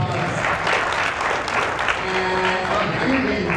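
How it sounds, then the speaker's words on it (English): Steady, dense applause from an audience at a voice acting workshop during an anime convention, loud and continuous throughout the short stretch with no breaks. "Aubrey and Drew, give a round of applause."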